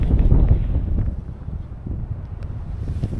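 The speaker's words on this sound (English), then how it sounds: "it's windy, as you can probably hear" Wind buffets a microphone outdoors beneath a tree on a hillside, a loud, rumbling low roar that surges at the start, eases off and then keeps gusting unevenly throughout.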